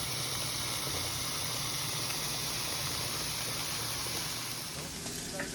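Pork medallions brown in a hot pan with a steady, dense sizzle and hiss that stays close and constant throughout, easing off only slightly near the end.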